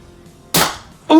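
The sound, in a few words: Monkee Mods Firefly blaster firing a bamboo slug dart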